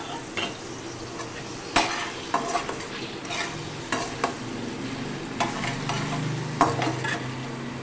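Steady sizzling of garlic frying in a pan, with occasional scrapes and clinks of a utensil stirring against the metal.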